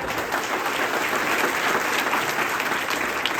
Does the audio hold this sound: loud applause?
yes